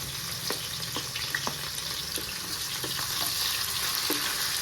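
Onions and green chillies fry in hot oil for a gobi tomato curry, a close steady sizzle broken by spoon knocks and scrapes against the pan, with no voices.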